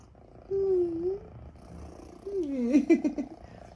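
A cat purrs close up, first in a smooth drawn-out rumble, then in a louder, choppier burst near the end.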